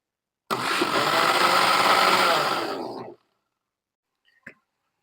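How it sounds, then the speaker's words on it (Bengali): A blender whirs loudly and steadily for about two and a half seconds while mixing lemon yogurt sharbat, then cuts off abruptly, followed by a single small click. "এখন ব্লেন্ডার করে নেব ভালোভাবে।"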